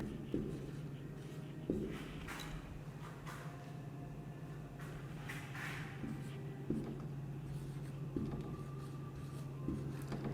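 Pen writing on paper close up during an English grammar lesson, a soft, steady scratching with occasional taps, over a low constant hum and no talk.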